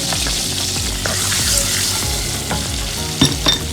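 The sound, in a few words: cumin seeds and asafetida sizzling in hot oil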